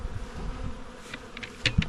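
Honey bees buzz around the top of a poorly sealed sugar syrup bucket, a faint steady hum with a few closer passes flaring up briefly near the end.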